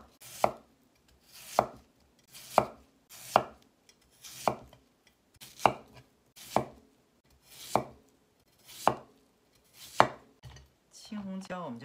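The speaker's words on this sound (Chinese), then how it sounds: "斜着把它切成片儿。" Peeled yam sliced diagonally on a cutting board with a kitchen knife, about ten evenly spaced sharp knocks of the blade striking the board, close and alone, ending with a brief shuffle of pieces.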